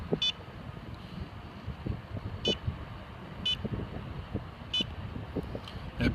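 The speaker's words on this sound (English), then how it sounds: "That beeping you may be hearing is me making some little adjustments on the computer mount" Short electronic beeps from a computer mount being adjusted, five brief tones spaced irregularly over a steady low rumble of background noise.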